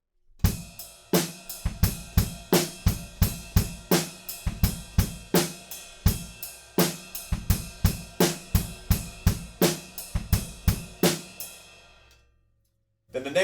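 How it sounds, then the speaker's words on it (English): Motown-style groove on a drum kit for a song: steady, driving bass drum and snare hits with bright cymbal or hi-hat wash, played close and loud for about twelve seconds before stopping. "we've got a couple of bars where we're just playing that sort of Motown groove."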